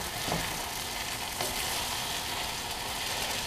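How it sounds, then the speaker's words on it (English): Onions frying in olive oil in a pan, a steady broadband sizzle with faint crackles and a couple of brief utensil scrapes, continuous and close. "I'm frying them in olive oil."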